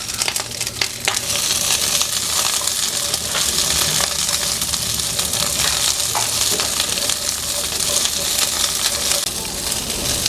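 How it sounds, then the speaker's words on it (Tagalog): Sitaw string beans pan-fry in hot oil, giving a loud, steady sizzle with crackling bursts and occasional clinks of stirring against the pan. "ipapan-fried natin sila para maluto ng bahagya"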